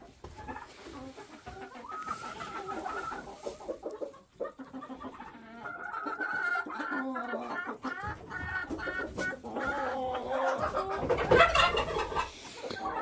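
Chickens cluck and murmur in a coop at night, a busy, soft chorus of overlapping calls heard at a distance, faint throughout with a slightly louder burst near the end.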